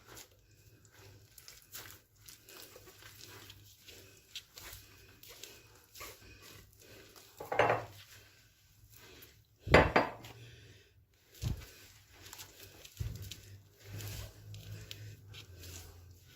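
Dough made from flour and water being kneaded by hand in a bowl, with soft squishing and dull knocks against the bowl, a few louder thuds scattered irregularly through a quiet kitchen.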